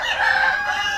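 A Tiger-breed rooster weighing about 4 to 4.5 kg crows in one loud, sustained, harmonic call that fills the whole short moment, with no voices.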